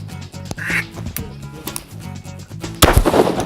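Shotgun blasts during a 2014 duck hunt outdoors, with a sharp, loud report near the end following quacking ducks and a duck call, with harmonic, rhythmic calls running throughout.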